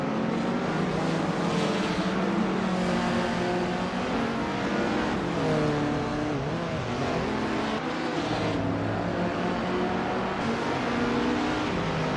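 Race cars lapping a track, among them a 1973 Alpine 910 1800s, engines droning and shifting pitch continuously at close range, with several overlapping motors rising and falling through gear changes.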